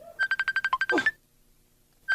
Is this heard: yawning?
no